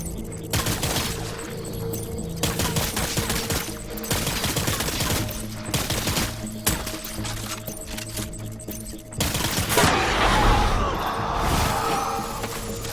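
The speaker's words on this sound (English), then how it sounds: "Taking fire!" Sustained gunfire in the video game Death Stranding during a World War II boss fight: dense, continuous bursts of rifle and machine-gun shots with loud crashes, growing heavier near the end, with no talking.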